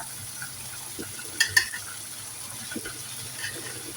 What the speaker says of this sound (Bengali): এই পর্যায়ে অ্যাড করে দিব আমি মসুরের ডালগুলা, দিয়ে একটু নাড়াচাড়া করে দিব।